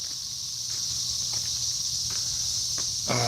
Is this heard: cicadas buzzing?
yes